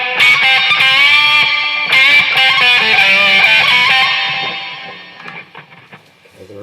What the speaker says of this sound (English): Okay, the reverb is really high